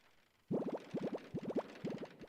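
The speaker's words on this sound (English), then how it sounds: "You turn the faucet." A faucet is turned on in the 1993 Sierra adventure game Freddy Pharkas: Frontier Pharmacist, giving a short burst of quiet, bubbly gurgling water in quick rhythmic spurts after a moment of silence.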